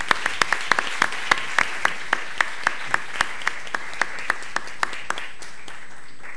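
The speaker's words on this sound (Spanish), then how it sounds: "Muchas gracias, un aplauso por favor." An audience at a soccer film festival panel discussion applauds, with steady, fairly regular claps ringing out from a modest crowd, clear and continuous throughout.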